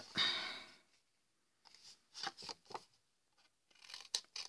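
Scissors snip through a sheet of paper in several short, close cutting strokes after a breathy opening sound, while making Easter bunny decorations.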